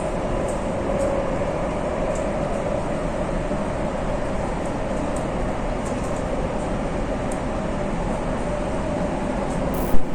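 Riding the Delhi Airport Express metro train toward New Delhi railway station: a steady, loud interior rumble and rush of the moving carriage holds evenly for about ten seconds, ending with a brief sharp knock.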